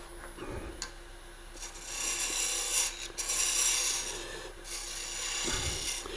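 Wood turned on a lathe while being roughed round, a close scraping rasp of the tool against the spinning blank, rising and falling in intensity over a steady motor hum, without speech.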